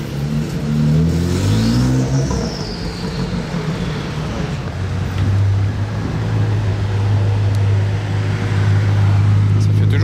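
A supercar on a Monaco street revs its engine loudly and close, with a rising, wavering roar that settles into a steady drone. People talk over it.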